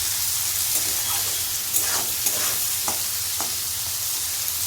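Capsicum and mixed vegetables with salt fry in a pan for fried rice, giving a steady close sizzle with soft scraping stir strokes every second or so, no voices.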